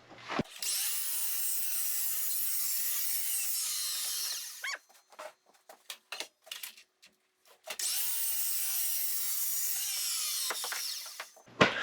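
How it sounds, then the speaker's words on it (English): A hand saw works through a 12-inch wide piece of timber in two long bouts of rapid rasping strokes, close and loud. A short pause with scattered knocks separates the bouts. "I can cut a 12-inch wide piece of timber with my saw"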